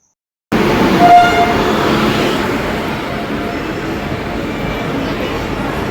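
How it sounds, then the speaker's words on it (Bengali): Duronto Express train 12260 arriving at a busy station, a sustained rumble of rolling coaches with a brief horn toot near the start, steady and fairly close. "এই আমাদের দুরন্ত এক্সপ্রেস, এটা ট্রেন নাম্বার হচ্ছে 12260 ট্রেন নাম্বার"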